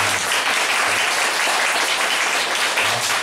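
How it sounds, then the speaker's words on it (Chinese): An audience at a philosophy event applauds the translator with sustained, dense clapping that holds at full strength for several seconds, close and loud. "大家先热烈掌声哦"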